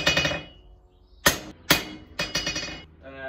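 A hammer strikes hot steel on an anvil horn while a grappling hook is forged, giving several sharp ringing metallic blows at irregular intervals, close and loud, with lingering anvil ring between hits.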